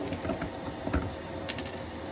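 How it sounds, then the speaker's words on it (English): A screwdriver backs long screws out of an Evergreen Chia miner case, giving soft, close ratcheting clicks and scraping metal turns in an irregular rhythm, faint and alone. "I do have a smaller screwdriver, which should be able to get these done"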